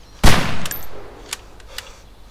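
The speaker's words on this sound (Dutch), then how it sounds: "Ik hoorde één schot" A single loud gunshot cracks in the DayZ video game, close and sharp, with a short rumbling tail, followed by a few fainter, more distant shots.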